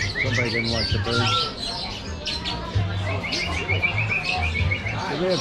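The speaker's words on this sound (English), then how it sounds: "there were rescue birds here" Rescue birds chatter and squawk inside a downtown restaurant in Chandler, Arizona, with busy overlapping calls and chirps running throughout alongside a low hum, while people talk quietly in the room.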